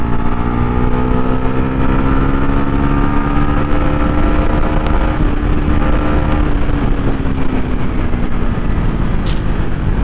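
A Bajaj Pulsar NS400 motorcycle pulls hard in sports mode and fourth gear, its loud engine droning with rising revs alongside steady wind rush, with no talk.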